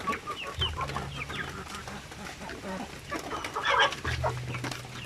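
Quiet clucking from several RTL Basilan hens, scattered short calls at a moderate distance with a low background hum.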